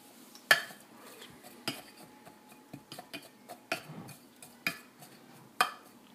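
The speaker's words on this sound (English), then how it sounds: "I'm gonna mix it well together first. Baking soda and cornstarch" Baking soda and cornstarch are stirred together in a bowl for homemade deodorant, a series of sharp, close utensil clinks and scrapes against the dish in an uneven rhythm, with quiet gaps between strikes.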